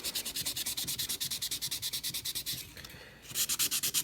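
Rhythmic back-and-forth strokes of 1000-grit sandpaper on a stubby, steady and close, with a brief pause before the rubbing resumes.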